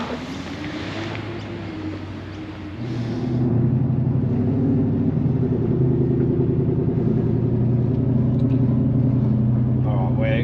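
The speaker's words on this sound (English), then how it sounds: "We're in the 6x6 driving into the show" A 6x6 truck drives along, its engine a steady loud rumble that deepens and grows louder partway through, with occasional voices over the drone.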